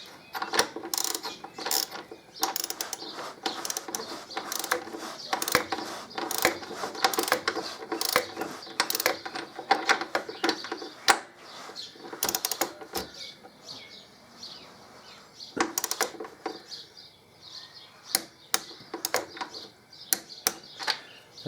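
Bolts are tightened on the swingarm of a 2005 Harley-Davidson Electraglide frame, with rapid, busy ratchet clicking in close bursts that start and stop, heaviest in the first half and then coming in short spurts.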